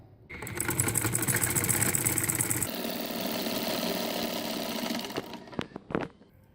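A sewing machine stitches the waistband casing of a small baby's salwar, a steady mechanical whir running for a few seconds, shifting pitch partway through, then stopping with a few short clicks and knocks.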